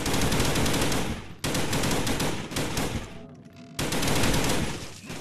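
Rapid automatic gunfire from a Nazi zombies VR shooter game, loud and dense in sustained bursts with two abrupt breaks, and no talk over it.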